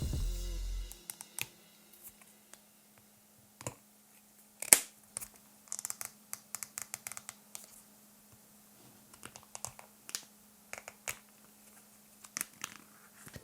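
Soft, scattered clicks of buttons being pressed on a Caudabe case fitted to an iPhone 15 Pro, close and quiet, in short irregular clusters with pauses between.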